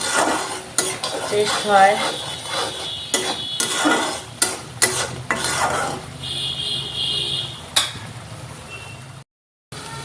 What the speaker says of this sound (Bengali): ভালো করে অল্প কষুক মশলাটা।